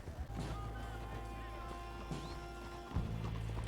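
Horse hooves clip-clopping in Red Dead Redemption 2, a steady rhythmic trot under game music and voices.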